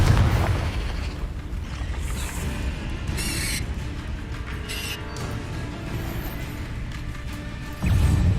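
Confringo blasting spell explosions in Hogwarts Legacy, a few bursts and crashes layered over constant dense game noise and effects, fairly loud.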